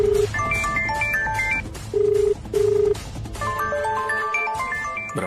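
A phone ringtone plays in a home in a Telugu TV serial, a repeating electronic melody of bright beeping tones broken by a few longer steady tones, fairly loud, with no talking.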